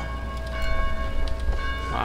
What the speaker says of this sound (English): Everybody's covering their ears because their bell's ringing.